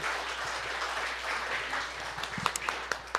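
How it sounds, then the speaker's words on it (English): A congregation applauds a kitchen team at a Sunday service, fairly soft steady clapping with a few sharper individual claps standing out toward the end. "let's just have one big round of applause for our kitchen team"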